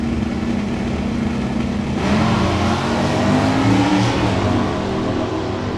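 An in-stock automatic Pontiac Le Mans drag racing down the strip, a loud continuous engine roar that swells midway as it accelerates, with no talk.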